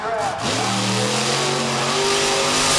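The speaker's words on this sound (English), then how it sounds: "Great donuts, high revs." A race truck revs hard while spinning donuts on the dirt track at Charlotte Motor Speedway, its engine loud, close and continuous with rising, sustained high revs.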